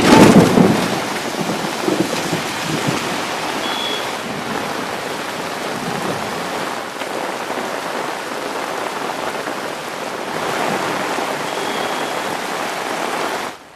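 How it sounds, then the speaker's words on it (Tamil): Heavy rain pours down in Thoothukudi as a dense, steady roar of water hitting surfaces, loud and close throughout, with a stronger gust-like swell at the start and no voices. "கனமழை கொட்டி தீர்த்தது"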